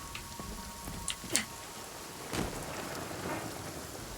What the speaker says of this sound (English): This rain is getting heavy.